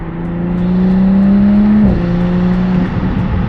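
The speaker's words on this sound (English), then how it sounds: "Let's hear some downshifts" A Toyota A90 Supra engine hums steadily, then drops pitch abruptly as it downshifts and revs again, loud and close.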